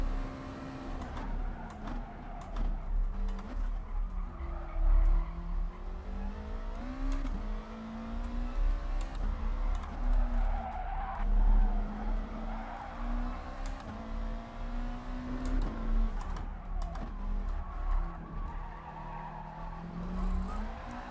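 A Gr.4 race car in GT Sport squeals its tyres through a snap of oversteer, a long wavering skid over a steady engine drone that rises and falls as the car slides.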